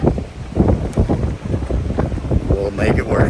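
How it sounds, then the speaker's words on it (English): Wind gusts buffet a sailboat at sea at night, a rough, continuous roar across the mic with a few short voice fragments over it. "A little windy."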